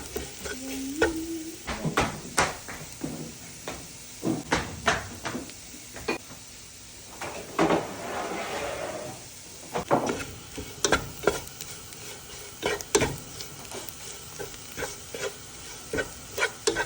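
Coriander powder, Kashmiri chilli, pepper powder and garam masala are stirred in a frying pan for beef roast, giving repeated scraping strokes and knocks of the spoon over a soft background sizzle.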